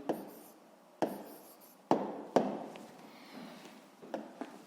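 Pen or pencil writing an answer by hand in a sixth-grade maths exercise, soft scratchy strokes punctuated by several sharper taps as the writing instrument touches down, close and quiet with no talking.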